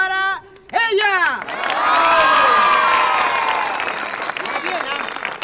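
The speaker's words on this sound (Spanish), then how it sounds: "¡Aplausos para ella!" Audience at a Halloween costume contest applauds and cheers loudly for a contestant, sustained dense clapping with whoops and children's shouts; a raised voice sounds briefly at the start.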